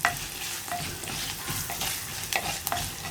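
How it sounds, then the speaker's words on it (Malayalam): Turmeric and asafoetida being stirred in a pan for a curd curry, a spoon scraping steadily with faint sizzling of frying spice underneath, close and alone with no talk. "ഇത് രണ്ടും ചേർത്ത് ആ മഞ്ഞൾപ്പൊടിയുടെ റോ ടേസ്റ്റ് മാറി വരുന്നത് വരെ ഒന്ന് ഇളക്കി കൊടുക്കുക."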